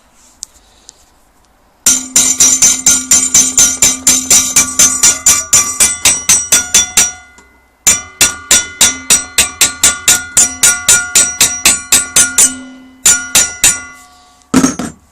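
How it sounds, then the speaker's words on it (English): A hammer strikes metal clamped in a vise in a home workshop while it is bent to a right angle. Dozens of rapid, loud ringing blows come in two long runs with a short pause between them, ending with a few final hits. "So I shall take the hammer to it."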